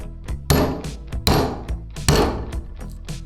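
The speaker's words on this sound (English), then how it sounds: "take a center punch and punch along the entire line so that the drill does not slip" A hammer strikes a center punch into wood, three sharp solid blows spaced roughly evenly apart, close and loud, each followed by smaller taps and handling knocks, with no voices.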